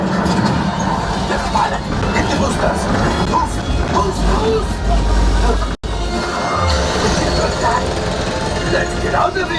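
Staged theme park show effect at Disney's Hollywood Studios of missiles striking a train: loud crashing and clattering impacts with rumbling rail noise, a brief sharp dropout midway, and voices talking over the din.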